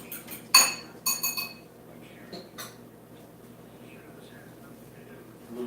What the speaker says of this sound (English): Stirring up my eggs.